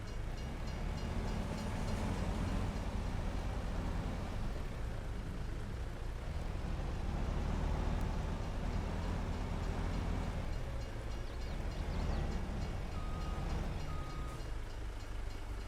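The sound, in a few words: train passing in a video game on Xbox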